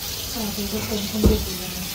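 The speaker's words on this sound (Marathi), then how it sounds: "पाणी भरतो बघा आम्ही आता." Water runs from a tap into a container at home, a steady rushing hiss with a brief louder splash, while people talk in the background.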